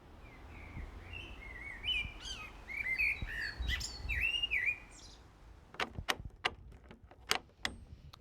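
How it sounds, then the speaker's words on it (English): Outdoors on a spring day, several birds sing and chirp in varied bright phrases at moderate distance, joined later by a series of sharp clicks and knocks, with no talking. "Birds are singing."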